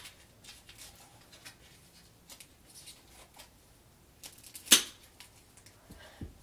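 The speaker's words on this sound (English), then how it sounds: "you want to take your scissors and cut it into a point" Scissors cutting electrical tape into a point while building a rocket, a few quiet, close snips and crinkles spread irregularly, with one sharper cut standing out near the end.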